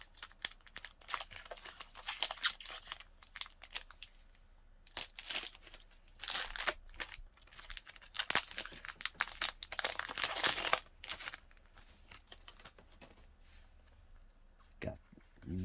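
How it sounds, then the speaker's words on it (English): A Digimon Battle of Omni booster pack wrapper is torn and crinkled open in close-up, with bursts of sharp foil crackling and tearing separated by brief pauses and handling noise. "Open up our next pack here."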